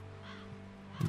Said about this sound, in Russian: Ворона.